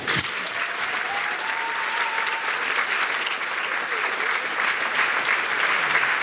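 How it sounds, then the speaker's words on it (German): Sustained applause from an audience at a school graduation-class variety show, a dense wash of clapping that stays loud and even throughout. "Dafür erstmal ein Applaus."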